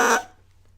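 A short, buzzy bassoon reed crow, bright and reedy at first, then quickly fading into a low steady hum.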